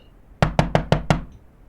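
Five quick, firm knocks on an outside gate, evenly spaced, loud and close, used as a podcast sound effect in otherwise near silence.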